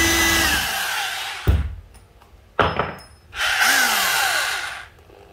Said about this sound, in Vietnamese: Đây là khoan gỗ.